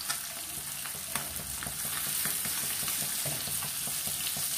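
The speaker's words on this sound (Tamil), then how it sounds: "2 நிமிஷத்துலேயே ஒரு பக்கம் பொரிஞ்சிடும்." Small sudai fish fry in hot oil over a medium flame, giving a continuous close sizzle with fine crackling pops at an even level throughout.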